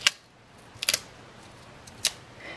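Scissors snipping paper at a crafting table, a few sharp, quick close clicks, one single and then a quick double, with faint room quiet between and no talk.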